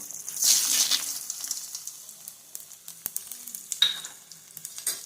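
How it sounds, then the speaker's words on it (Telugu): A sharp burst of hissing as tempering spices hit hot oil, settling into soft crackles and pops with a few clinks of a utensil. "నూనె కాగిన తర్వాత పోపు దినుసులు వేసుకొని వేయించుకోవాలండి"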